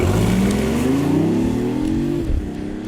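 A BMW i8 hybrid sports car with a three-cylinder engine accelerates hard, its loud, close engine note rising steadily in pitch before easing off near the end, with no voices.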